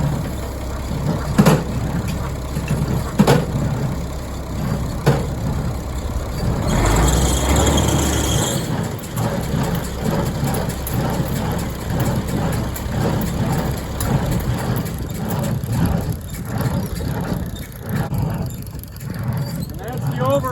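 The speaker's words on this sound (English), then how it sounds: "And that's the overrunning clutch that you hear." Overrunning clutch on a Weasler PTO shaft driving a baler during a test run, a steady mechanical whir and rattle under a running tractor engine, with a louder, brighter rush around the middle and ongoing machine noise throughout.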